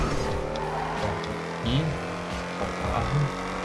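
A car in GTA V Online races along with a steady engine drone, brief tire squeals and skids as it swerves sideways, while someone talks over it.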